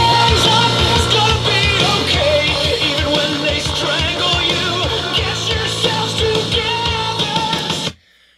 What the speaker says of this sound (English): Now it's going to be primarily drums, bass, vocals with the guitars too soft.